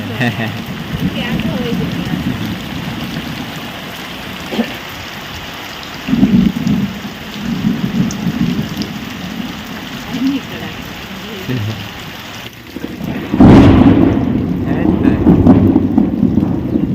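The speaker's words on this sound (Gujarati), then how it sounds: "કેવા ડાયરો કડાકા ભડાકા થાય" Heavy rain pours steadily in a village near Botad, Gujarat, with low thunder rumbling through it and a loud crack near the end. Voices talk faintly under the storm.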